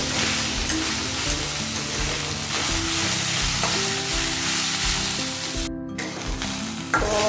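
Chopped banana stem fries in a pan with a loud, dense, continuous sizzle and occasional stirring scrapes, heard close and alone.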